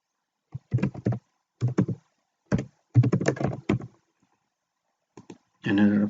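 Typing on a computer keyboard comes in short clustered bursts of close key taps separated by pauses, ending in a longer run of keystrokes.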